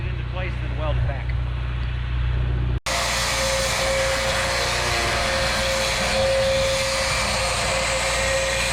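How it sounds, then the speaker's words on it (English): A cutoff wheel scoring a steel gusset on a homemade road drag: a brief stretch of voice and shop noise, then a loud, continuous high whine of the spinning wheel for several seconds. "I think I'm just going to score it with a cutoff wheel"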